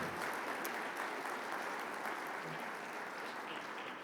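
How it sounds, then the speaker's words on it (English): Audience applause for Spirit Wolf singers at an Indigenous forum opening ceremony, a faint, distant, even patter of clapping lasting a few seconds. "Give them a round of applause."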